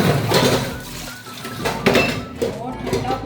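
Dishes and pots clink and clatter in a home kitchen sink during washing with cold water, close and busy with irregular metallic knocks and rattles.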